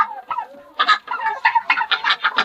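Chickens on a winter homestead, kept in a coop they have outgrown, cluck close by in a quick run of short, choppy calls that grow busier toward the end, with no talking.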